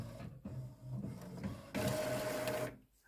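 A photo printer runs through a 10x15 colour photo print, a steady close mechanical whir and feed rattle with a brighter, louder motor stretch near the end before it stops; no talking.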